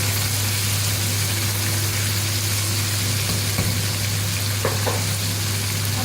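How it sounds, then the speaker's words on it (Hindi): Chicken frying in a pan over a medium flame, a steady, continuous sizzle that stays even and close throughout, with a low background hum and no talking. "मीडियम फ्लेम पे हमने फ्राई किया है"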